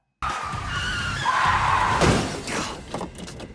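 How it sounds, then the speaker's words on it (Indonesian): A car brakes suddenly and its tires skid with a loud, sustained squeal close by, followed by a sharp thud and scattered rattling as the screech fades. "Kemudian Ray pun mengerem mobilnya secara mendadak"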